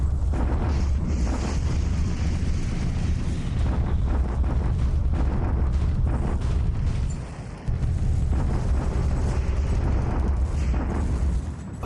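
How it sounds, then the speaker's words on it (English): Artillery bombardment in the War Plan Orange war game, a dense continuous rumble of booming explosions that stays loud throughout with only a brief dip midway, and no voices. "That's the Japanese bombardment, which is ineffective,"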